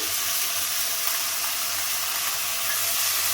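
Tomato, green chili and ginger paste fries in a wok with a steady, even, close sizzle that holds for a few seconds without talk.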